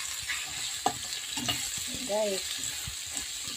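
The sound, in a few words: onion sautéing in oil in a pan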